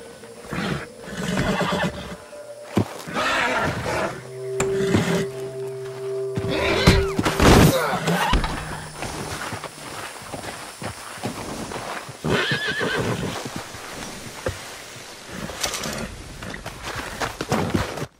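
A horse in a stable in Red Dead Redemption 2 neighs loudly, one drawn-out whinny near the middle, while hooves clip-clop and thump throughout, close by with no talking.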